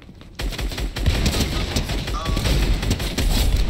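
Gunfire in the battle royale game Fortnite, including shotgun blasts, dense continuous shots and impacts over several seconds, loud and close, with players talking over it.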